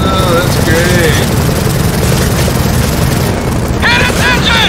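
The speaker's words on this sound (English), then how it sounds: "Now we have to outrun a freaking helicopter." Helicopter chase in the Gears of War 4 video game: a loud, continuous rotor and engine roar fills the scene with booming impacts, while people talk over it.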